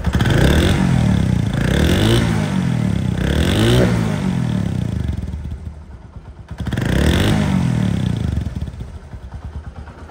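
A used Honda CD 80 motorcycle engine runs close by, revving in repeated surges with a brief drop toward idle partway through, and no talk over it.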